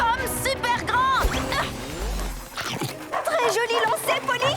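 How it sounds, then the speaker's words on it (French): Two stadium security dogs in a Polly Pocket cartoon bark and whimper in yips and yelps while chasing, mixed with cartoon music and effects, loud and busy. "les 2 chiens de sécurité du stade qui nous courent après"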